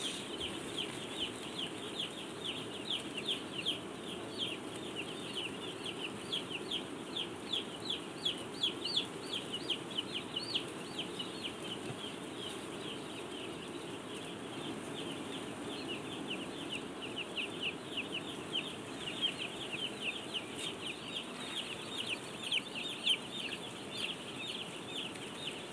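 Day-old broiler chicks in a closed poultry house peep constantly in a dense, high chorus over a steady ventilation hum, with no speech.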